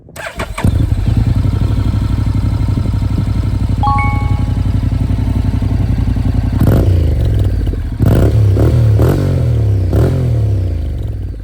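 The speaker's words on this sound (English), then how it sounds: "I really like the sound of the bike with the exhaust open" A Honda NC750X motorcycle with an open sport exhaust starts up and rumbles loudly nearby with a deep, throaty sound, then blips the throttle in several sharp revs.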